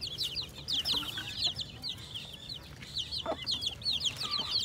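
A mother hen with her healthy chicks: constant high, rapid cheeping from the chicks, close and overlapping, with a low cluck or two from the hen beneath.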